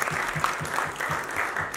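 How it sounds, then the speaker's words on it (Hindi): An audience at a mushaira, an Urdu poetry gathering in Ealing Town Hall, London, breaks into enthusiastic applause: many hands clapping close together in a dense, steady burst with a rhythmic pulse to it, and no voices heard. "तो इनके लिए भी एक दफ़ा भरपूर तालियां बजाएं"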